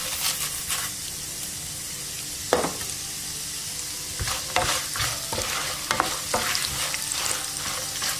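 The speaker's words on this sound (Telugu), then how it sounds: "ఆవాలు వేసుకుందాం." Mustard seeds, peanuts, chana dal and urad dal frying in oil for mango pulihora, a continuous sizzle with sharp popping crackles and scraping stirs scattered throughout, close and alone.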